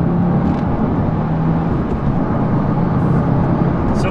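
A 2022 Subaru WRX driven hard on a road, its engine and road roar loud and continuous from inside the car, a steady heavy drone with no talking.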